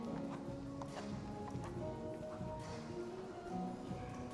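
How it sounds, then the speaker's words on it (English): A horse's hooves move around the circle during a senior female individual compulsory test at an FEI vaulting European Championship. Soft, steady hoofbeats sit under continuous arena music with a constant background wash. "The horse just moving into the circle that little bit"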